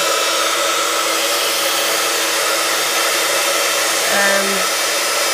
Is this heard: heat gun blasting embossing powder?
yes